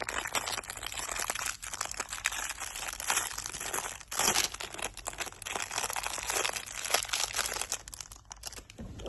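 Plastic packaging of a Beyblade Buster Dran set crinkles and crackles continuously as it is torn open and handled up close, busy and steady throughout with no talking.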